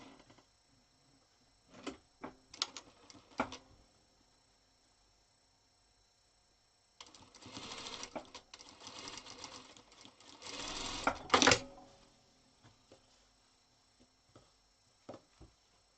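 Home sewing machine stitching pieces of a hunters star quilt block, heard in short bursts early on and then a steady run of several seconds, close by with no talking.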